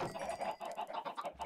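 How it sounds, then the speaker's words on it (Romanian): Minecraft chickens cluck in quick, repeated bursts, a busy flock close up with a steady choppy rhythm. "Că sunt multe găini, frate, sunt multe găini."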